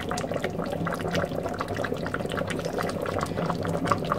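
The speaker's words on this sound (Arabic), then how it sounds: "انا غادي ننزل لكم بالمغرفه باش تشوفوا" Liquid from a pot of Moroccan roast chicken is ladled, with continuous bubbling, sloshing and pouring of broth at close range and steady moderate loudness.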